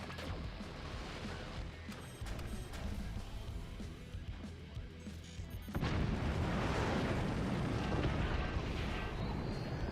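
Orbital cannon fire in a video game: dense, continuous rumbling blasts and crashes that surge noticeably louder and heavier about halfway through, with no talking.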